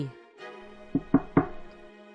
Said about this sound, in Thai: มันก็เคาะประตูเรียกคุณยาย